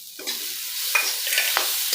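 Ground ginger paste added to potatoes frying in hot oil for an egg curry, a steady close sizzle with a few sharp utensil scrapes against the pan.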